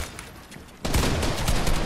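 Fortnite gunfire during a duo tournament warmup match, a sudden loud burst of rapid game shots that begins partway through and continues steadily to the end.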